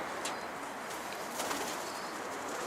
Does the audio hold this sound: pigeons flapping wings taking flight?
yes